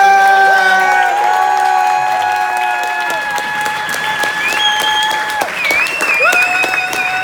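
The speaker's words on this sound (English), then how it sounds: "Can we have another round of applause for Mark?" An audience at a comedy-style show applauds and cheers for a performer named Mark: dense, sustained clapping with whoops mixed in, loud and close, fading only slightly toward the end.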